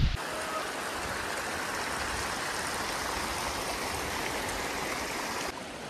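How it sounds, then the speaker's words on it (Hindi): Vasudhara waterfall near Mana village in the Himalayas, its water crashing down nearby in a steady, loud, rushing roar that holds evenly throughout before easing slightly at the very end. "हमारे ऊपर पानी खूब गिर रहा है।"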